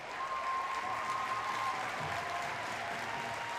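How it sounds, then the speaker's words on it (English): Stadium crowd at a women's football match between Manchester City and Everton in 2023, a steady broad roar of cheering and applause filling the ground, with a faint commentator voice beneath. "You can hear by the reaction of the crowd"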